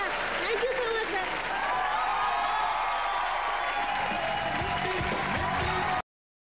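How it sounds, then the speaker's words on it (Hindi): A studio audience on a live Hindi comedy show claps and cheers alongside a guest appearance by a celebrity, continuous clapping with voices and whoops over it before a sudden cut. "और तालियां"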